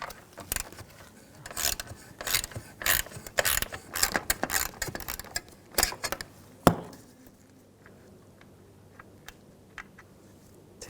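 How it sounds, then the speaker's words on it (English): A 10mm socket ratchet removing seat nuts in a 2021-2023 Jeep Grand Cherokee L clicks in quick uneven bursts of pawl ticks, close and crisp, then falls to a few sparse clicks after a sharper knock. "Use a 10mm socket."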